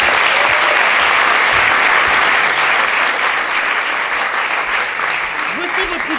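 Loud, dense applause from an audience at a Paris improv comedy festival show, a sustained roar of many hands clapping that fills the room without a break.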